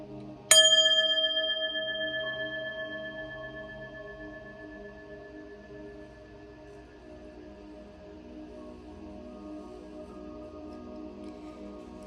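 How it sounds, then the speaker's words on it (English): A single bell is struck once, giving a bright, clear ring that sustains and slowly decays over several seconds in a quiet room. "Going to ring the bell, clear your energy"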